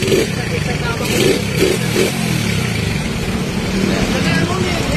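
A Rusi motorcycle engine runs with its turbo activated, a steady droning motor hum under a voice talking throughout.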